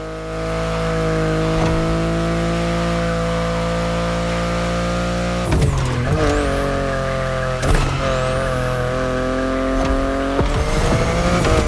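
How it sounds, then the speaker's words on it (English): A BMW i8 driven in the racing game The Crew Motorfest, its engine droning steadily and loud, then several quick upshifts and revving swells with tire noise, with no talking. "The BMW i8 is a car that stands out from the crowds."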